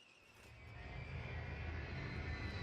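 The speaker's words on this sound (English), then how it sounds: "Crash requesting Warthog strafing run." A Warthog aircraft roaring in on a strafing run in the video game Black Ops 4, its engine drone swelling steadily louder and nearer.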